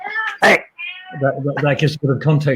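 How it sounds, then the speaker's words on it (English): A house cat gives a loud, close meow, and a second, thinner meow follows, with someone talking over and after the cat sounds. "so sorry if you hear the cats playing in the background"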